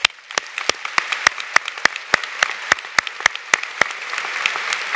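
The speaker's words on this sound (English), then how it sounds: "So please give them a round of applause." Sparse, steady clapping from an audience builds over a few seconds at a doctoral hooding ceremony, with individual sharp claps standing out close by.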